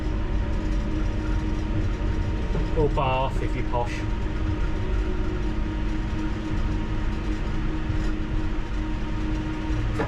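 Inside the driver's cab of a London Underground Piccadilly Line train, a steady low rumble and constant air-conditioning hum run throughout, with a brief rising squeal of wheels midway while someone talks over the noise.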